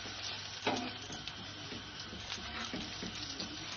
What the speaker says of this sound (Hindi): इसी तरह बाकी कटलेट्स भी आप फ्राई कर दीजिए